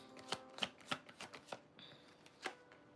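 Tarot cards are handled and laid face up on a table: a run of crisp slaps and flicks, several distinct snaps spaced irregularly and close up, with no talking.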